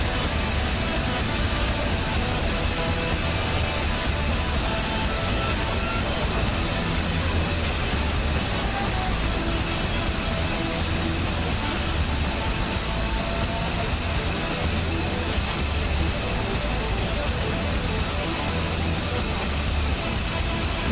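An aircraft coming in to land on a runway, a loud steady engine roar that fills the whole stretch without letup while people talk over it.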